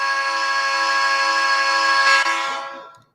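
Loud, sustained whistle tone with a rich stack of harmonics, holding steady for about three seconds before tapering off to silence.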